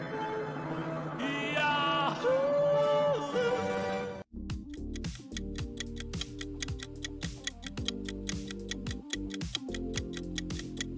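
The Yahoo logo sound plays: a bright, yodel-like voiced melody with rising and falling glides. After about four seconds it cuts off and a steady, loud clock-like ticking takes over.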